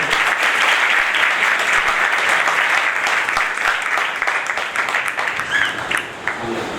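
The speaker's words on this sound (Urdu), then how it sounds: "آپ سب ان کے لیے زوردار تالیاں" Loud, sustained applause from a congregation marking a church's first anniversary, a dense wash of clapping that carries on steadily before gradually thinning toward the end.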